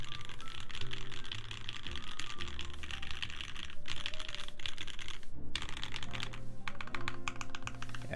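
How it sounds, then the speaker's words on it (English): Steady, rapid keystrokes on a Slipline mechanical keyboard clatter close and continuous, a dense, even run of clicky-thocky taps with only a brief pause partway through. "This keyboard actually sounds really nice."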